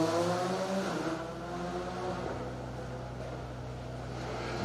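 Rally cars reach the stage finish at the Cadwell Stages Rally with a sustained, droning engine tone that holds steady at a moderate distance. The sound swells slightly at the start and end, and no one speaks over it.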